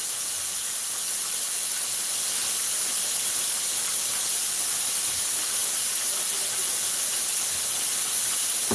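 Food frying in melted butter with a little salt in a home kitchen pan gives a steady, loud, unbroken hiss that runs the whole time, with no voices.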